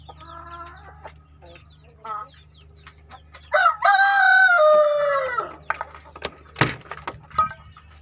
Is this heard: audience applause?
no